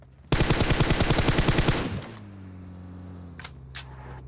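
Rapid automatic gunfire from a weapon in the mobile battle-royale game BGMI rattles in one loud, dense burst of about a second and a half, then cuts off into a low hum with a couple of faint clicks.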